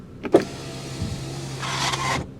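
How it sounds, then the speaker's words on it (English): A 2010 Volkswagen Jetta SportWagen power window motor whirs steadily for about two seconds while raising the window, with a brief creak and a louder strained hum near the end before it stops. "this window has been making some noises for the past month or so when you put it up"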